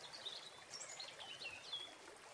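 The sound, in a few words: stream flowing behind, birds softly singing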